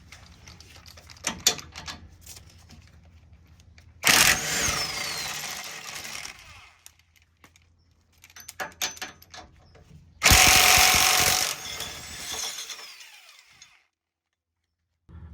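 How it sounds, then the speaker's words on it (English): A 17mm socket wrench backs out the tow hook bolts on a 2021 Toyota Tundra, with bursts of ratcheting and loud metallic clatter separated by quieter pauses. "Now we're going to remove the two bolts holding the tow hook on with a 17mm socket."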